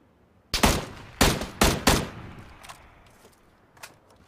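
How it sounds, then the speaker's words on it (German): Gunfire aimed at the player in the battle royale game PUBG: four sharp shots ring out in quick, irregular succession, followed by fainter trailing reports and one distant shot near the end. "Der schießt auf mich."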